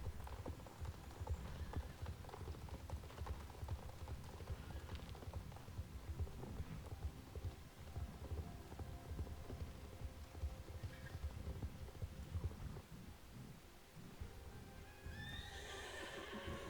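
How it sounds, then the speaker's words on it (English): In the Star Stable Online game, horses near the stables give repeated neighs and whinnies over steady clip-clopping hooves, moderately loud and continuous, with a brief higher whinny toward the end. "Do you hear it? The horses."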